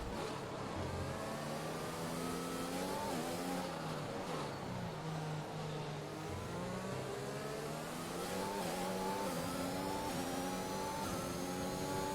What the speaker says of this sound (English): we had the Mercedes engine in the back of our car